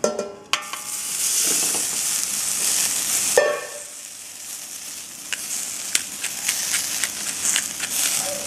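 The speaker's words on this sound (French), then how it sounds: "je fais sauter mes quelques petites tomates cerises" Cherry tomatoes are sautéed in a hot pan: a loud, steady sizzle with clattering stirring strokes, dipping briefly and then carrying on close up.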